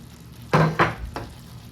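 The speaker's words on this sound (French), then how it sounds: "Là, je vais mélanger." Spiced food with turmeric and coriander being stirred in a frying pan alongside potatoes, giving three short scraping bursts over a faint sizzle.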